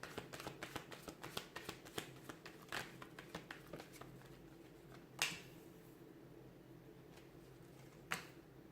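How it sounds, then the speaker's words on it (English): Tarot cards are shuffled close by in a quick run of crisp riffling flicks, followed by a few isolated sharper snaps against a quiet background. "let's give the cards a shuffle"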